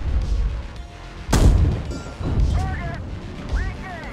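A tank cannon fires in the Gunner HEAT PC video game, one loud sharp boom followed by a rumbling tail, with engine rumble and game sounds around it.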